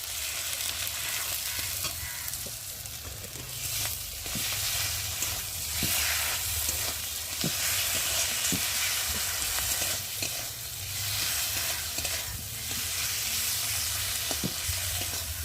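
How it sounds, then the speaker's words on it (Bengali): Spice paste of ginger, cumin and tomato with turmeric, salt and chilli powder being cooked down in fish oil, a dense continuous sizzle with regular spatula knocks on the pan throughout. "দেবো আদা বাটা, জিরে বাটা আর একটা টমেটো দিয়ে মশলাটা ভালো করে কষিয়ে নেব"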